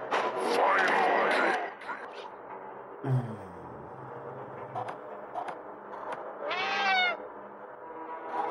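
Cat meowing in the video game Friday the 13th: Killer Puzzle, a few distinct meows, one drawn out near the start and another rising cry toward the end, over quiet game ambience.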